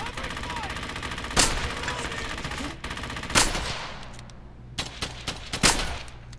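Machine gun fire in the World War II shooter game Brothers In Arms: Hell's Highway, sustained rapid bursts with several louder single reports standing out and a quieter tail of scattered shots toward the end.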